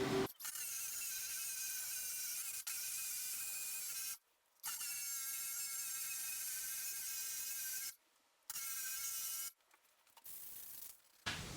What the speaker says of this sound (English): we'll grind that back and then we can call it good